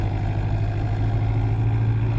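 A farm tractor just set out and not yet warmed up, its engine running at a steady low rumble with a strong, even throb and no revving.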